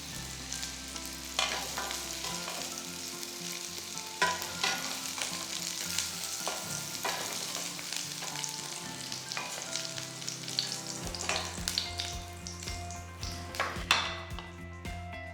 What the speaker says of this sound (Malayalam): vegetables ഒക്കെ ചെറിയൊരു ബ്രൗൺ ടിന്റ് ആവും അതുവരെ ഒന്ന് സോട്ട് ചെയ്തെടുക്കാം.